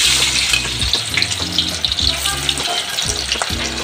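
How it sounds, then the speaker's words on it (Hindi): Chopped onion frying in hot mustard oil in a kadhai, a steady loud sizzle and crackle filling the clip, with rhythmic low knocks of stirring throughout. "अब मैं इसमें डालूंगी 1 मीडियम साइज का कटा हुआ प्याज"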